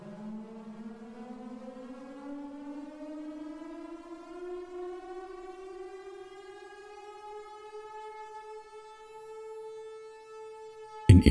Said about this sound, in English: An air raid siren?